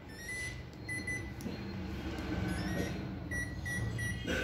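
A Toshiba RC-10FE6VX 1-litre rice cooker from 2018 gives a few short, high electronic beeps as its timer buttons are pressed. The beeps are spaced out over a steady, low background hum.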